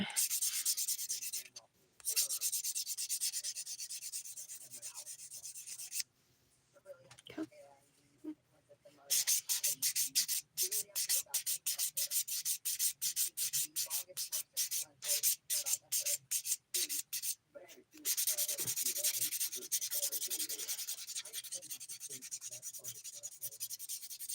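A 180 grit sponge file rubbing across a fingernail in fast, repeated short strokes, close and fairly soft, with pauses between bursts and no talk.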